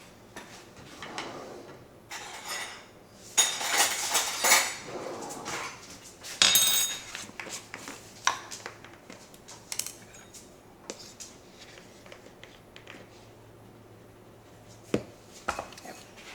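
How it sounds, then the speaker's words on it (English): Sugar and cinnamon being stirred together in a bowl for snickerdoodle cookies, with a spoon scraping and clinking in bursts of gritty stirring, then scattered lighter taps and pauses. "tablespoon of cinnamon, just mix it together"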